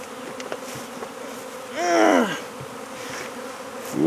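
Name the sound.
bees buzzing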